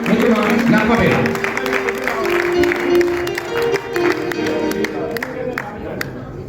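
Audience applause at a tribute concert for a Pakistani singer, clapping and crowd noise running under a host's amplified speech and a sustained musical tone, louder at the start and easing toward the end.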